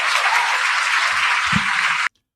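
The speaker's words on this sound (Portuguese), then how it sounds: "O pessoal gostou, o pessoal aplaudiu" Audience applauding during a session of Brazil's Supreme Federal Court, a dense, even burst of clapping lasting about two seconds before cutting off abruptly.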